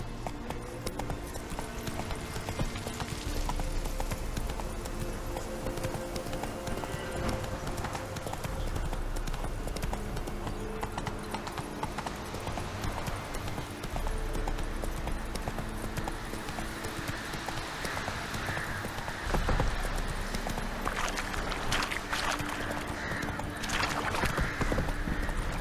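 Hooves of Roach, the horse in The Witcher 3: Wild Hunt, clop in a fast, steady galloping rhythm for the whole stretch, mixed with game ambience and a low rumbling background, with little talk.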